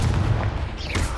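Confringo blasting spell going off in the video game Hogwarts Legacy, a short booming burst that rumbles low and steady across about a second, loud and close with no talk over it.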